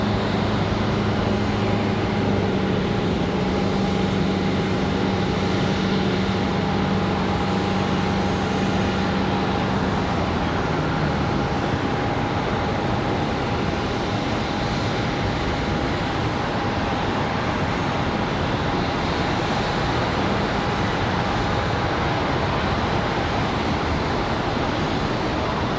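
An American Airlines Boeing 737-800 jet at Charlotte Douglas airport, a steady loud broadband engine roar with a sustained whine, heard alone for the whole stretch.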